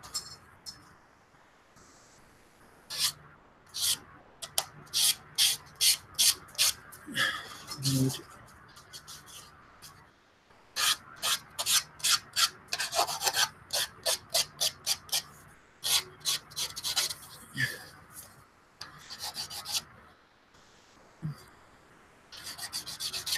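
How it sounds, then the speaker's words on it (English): Hand sanding along the edges of a small plastic model kit part, a run of short rhythmic rasping strokes in bursts with pauses between, close up, with someone talking over parts of it. "need to just sand a little bit off the edges there."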